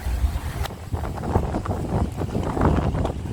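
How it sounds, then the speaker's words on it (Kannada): Strong wind buffets the microphone on a mountain road in Mauritius, a loud continuous rumble with gusty swells and no speech. "ಇಲ್ಲಿ ತುಂಬ ಗಾಳಿ ಇದೆ ಮತ್ತು ಚಳಿ ಇರುತ್ತೆ"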